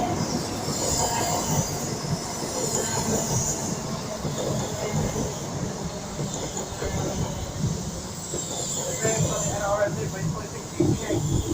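A Virgin Trains East Coast HST pulls into Durham station, its loud rumbling wheels and rail noise sustained throughout with occasional squeal and clatter, close by, with a voice speaking faintly over it.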